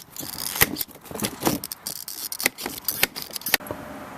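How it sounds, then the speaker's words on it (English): Hand shears snip through plastic trim on a Honda CR-V during a side step install, giving a series of sharp, close clicks and crunchy cuts, some louder snaps standing out against a faint background. "And we'll just cut that out with some shears."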